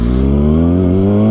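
A 2023 Kawasaki ZX-6R's engine revs loud and close as throttle is fed during a wheelie, a steady, harmonic-rich howl climbing slightly in pitch over a brief burst.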